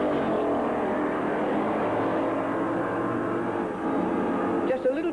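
Sidecar racing outfit's motorcycle engine revving with a bit of clutch slip, a sustained buzzing engine drone that holds steady, dips briefly and then picks up again near the end.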